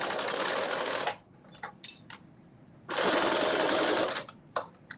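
A sewing machine stitches a cropped bodice seam in two close, loud bursts of rapid whirring, separated by pauses with small clicks and handling noises.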